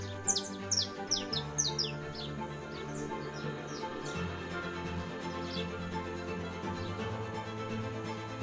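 Birdsong at dawn: several small birds chirp and trill in bright, quick bursts, loudest at the start and thinning out, heard over a steady low hum with no voices.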